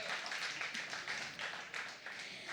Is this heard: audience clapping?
yes